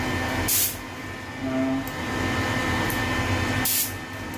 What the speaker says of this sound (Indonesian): kita semprot lari ya, semprot begini ya